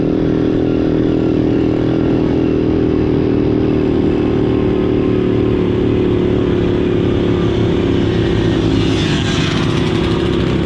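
An SSR Lazer 6 moped engine straining up a hill, a loud, steady, buzzing drone at near-constant pitch, close up and continuous for the whole stretch, with no talk.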